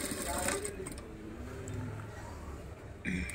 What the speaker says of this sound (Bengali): দাগ দিয়ে এখন একটু সেলাই করবে।